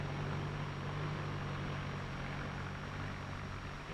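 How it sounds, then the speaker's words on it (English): A new 1953 Ford tractor engine drones steadily in a low, constant hum as it passes, faint and muffled throughout. "You can actually hear this difference as the new Ford tractor passes by."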